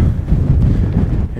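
Steady low, blustery wind rumbles against the microphone beside a lake near a glacier, with small waves lapping; the gusting noise runs continuously through the whole stretch with no talk.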